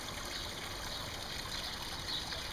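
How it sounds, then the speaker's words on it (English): Shallow backyard creek, built for kids to splash in beside a pond and new waterfall, gives a steady soft trickle of running water, close and even, with no one talking. "There's the creek."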